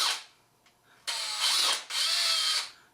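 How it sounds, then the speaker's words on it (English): A cordless electric drill spins a threaded rod to wind nuts up it, part of resealing a 1976 Johnson Evinrude 25hp outboard gearbox, with a short whir followed by two longer, loud, close high-pitched whirring bursts. "I'll just put the other end of this rod in a drill bit, just so I can wind those"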